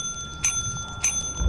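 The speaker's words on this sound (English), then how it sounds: "you must ring the bell enough for Space Bezos to respond" A sell-counter bell in the video game Lethal Company rings twice, about half a second apart, each a bright, clear ding that rings on briefly over a low background hum.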